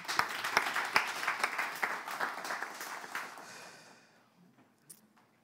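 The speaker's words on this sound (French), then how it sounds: "On applaudit, s'il vous plaît." Audience applause at a French-language broadcast show, a dense burst of clapping that starts loud and fades over about four seconds into near quiet, with one last clap near the end.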